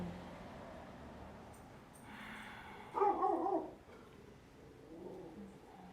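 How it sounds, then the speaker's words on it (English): A dog gives a short burst of barks from a distance, faint and muffled against a quiet room hum. "She's barking."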